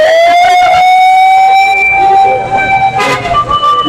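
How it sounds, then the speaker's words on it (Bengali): An ambulance siren wails loudly and close by as it passes along the congested Dhaka-Sylhet highway, a sustained rising and falling tone over road noise, with a short burst of horn or traffic sound near the end. "অ্যাম্বুলেন্সের এটি মুহূর্তে রাস্তাটি অতিক্রম করেছে"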